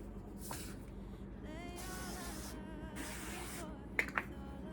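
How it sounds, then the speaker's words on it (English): A few short hissing bursts of non-stick cooking spray, fairly quiet, followed by a couple of light clicks. "I'm gonna give this a quick spray just so nothing sticks."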